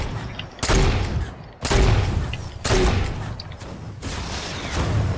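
Gunfire in the battle royale game Fortnite on PS4 comes as loud, dense blasts in four broad bursts about a second apart. Each burst fills the whole range with booming impacts.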